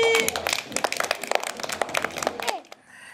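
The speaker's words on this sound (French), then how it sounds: "Et on applaudit." An audience claps briskly with scattered sharp hand claps, a dense burst of applause that fades out near the end, with a voice speaking faintly over it.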